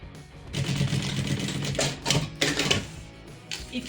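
A sewing machine stitches a seam on a fabric toiletry bag, running in a busy mechanical chatter with short bursts and pauses, close and fairly loud.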